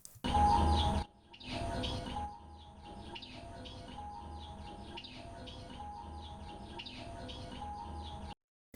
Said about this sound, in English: that bird tweeting is quite loud